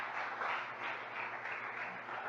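A church congregation applauds, a steady, soft wash of many hands clapping at a distance with no voices over it.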